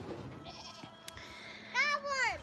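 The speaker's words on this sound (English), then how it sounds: "we just accidentally let the goats out, but we got them back in." Baby goats bleat close by, with a short shaky cry followed by a louder wavering bleat over a quiet background murmur.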